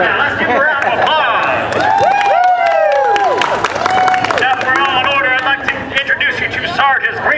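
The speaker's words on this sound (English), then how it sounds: "Let's give a round of applause." Audience applause and crowd chatter at a live Green Army Men boot camp show, steady and fairly loud throughout, with whistle-like tones and voices mixed in.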